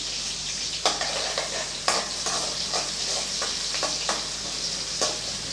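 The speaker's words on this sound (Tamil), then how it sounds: "நல்லா வதக்கி விட்டுடலாம் கொஞ்சம் செவந்து வரட்டும்" Onions and curry leaves sauté in a pan for an egg curry, a steady close sizzle broken by sharp spatula scrapes and stirring clinks every second or so, with no talking.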